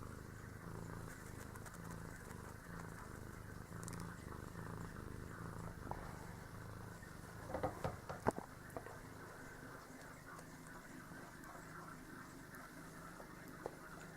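A young kitten purrs softly and steadily up close, a low continuous rumble with a few light scratches or clicks partway through.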